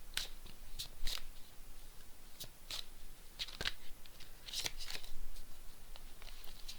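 Oracle cards shuffled by hand for a reading, irregular soft card flicks and sharp snapping taps over a low background hiss, fairly quiet and close.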